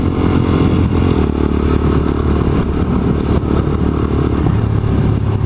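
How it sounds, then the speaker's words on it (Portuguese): A Harley-Davidson 1600 cc motorcycle engine running steadily and loud, a dense low rumble with clattering mechanical texture, close and continuous with no talking. "O senhor Carlos Gonzalez tem uma Harley Davidson muito louca"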